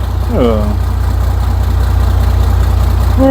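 Old MAN truck diesel engine, restarted after standing for four years, idling close by with a deep, steady, even rumble as brief voices break in at the start and the end.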